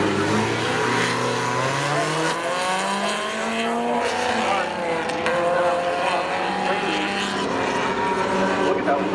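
Race cars, including a Pontiac and a Firebird, roar at a Seekonk Speedway Memorial Day spectator drag thrill show, with engines revving and rising in pitch loudly and continuously, while an announcer talks over the noise.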